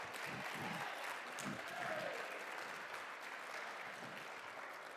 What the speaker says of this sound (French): Je vous demande d'applaudir à nouveau MCAC et Sorty Rod.